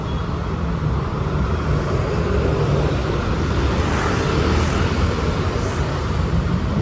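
Dense road traffic in Marilao heard from a moving motorcycle, a steady loud roar of engines and wind rumble with no break throughout.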